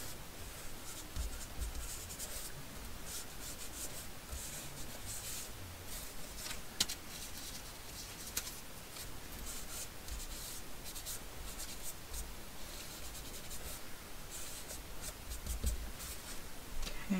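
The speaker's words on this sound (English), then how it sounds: "We will ink the edge of these." Ink is rubbed along the edges of paper squares for a junk journal, giving a steady dry scratching and scuffing sound that runs throughout, close and fairly quiet, with no talking.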